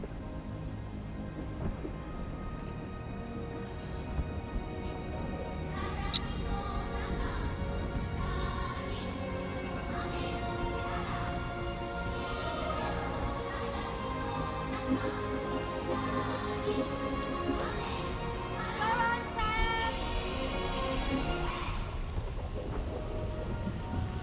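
Steady rain falling in the game Death Stranding 2: On the Beach, a continuous dense patter on surfaces with distant thunder-like rumbles, layered under faint music-like tones throughout.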